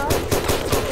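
Rapid automatic gunfire from a Siren Head video game, a dense, loud stream of repeated shots firing in quick rhythmic succession for about a second.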